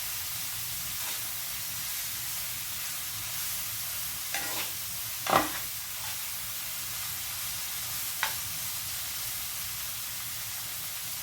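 Onions grilling on a hot griddle give off a steady, soft sizzle and hiss, broken by a few brief clinks and scrapes of stirring.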